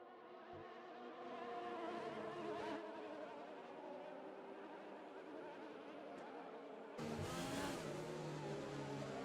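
Race cars circulating behind the safety car in the F1 2020 video game at the British Grand Prix, a steady layered engine drone with a louder burst of revving near the end, under commentary.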